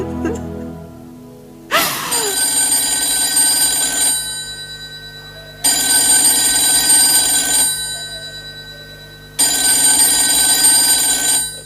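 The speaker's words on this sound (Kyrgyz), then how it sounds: "Телефон чырылдап жатат." A telephone bell rings indoors in three loud, sustained bursts separated by short pauses, with no talking.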